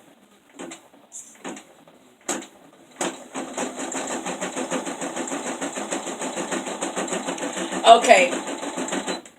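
An embroidery machine stitches an in-the-hoop Easter runner, a steady fast mechanical whirring after a few clicks and bumps as the hoop is set, close and loud, with a brief spoken word near the start.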